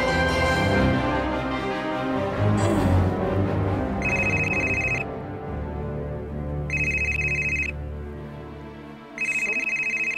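A telephone rings in short repeated electronic bursts, three rings spaced a few seconds apart, heard over a dramatic music bed in a TV drama scene.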